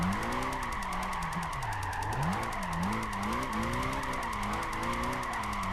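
Mercedes C63 AMG engine in Gran Turismo 5 revving hard and climbing through the gears, its pitch rising and dropping with each shift, loud and steady throughout with tire squeal under it.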